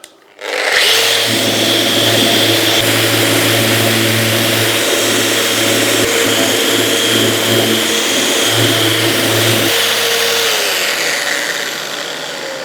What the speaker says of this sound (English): I'm going to now just sand this off carefully, of course. I'm in random orbit mode.